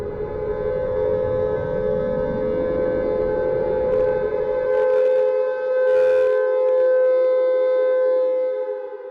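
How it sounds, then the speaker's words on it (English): A steady, droning civil-defense siren wails loud and sustained, its tone shifting slightly as it holds, with a low rumble fading out partway through. "air raid sirens activated across all 50 states"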